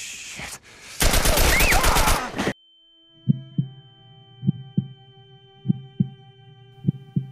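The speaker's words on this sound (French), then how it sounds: "Une rafale d'une dizaine de balles" A burst of about ten gunshots fires in a Naughty Dog video game as a loud, rapid rattle lasting over a second. It cuts off abruptly to a steady high tone and slow, heartbeat-like thuds.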